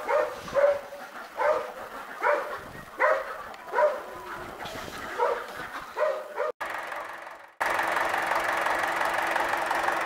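An MTZ-82 tractor engine starts abruptly near the end and settles into a steady, loud running rumble, after a long stretch of rhythmic, repeated dog barking nearby.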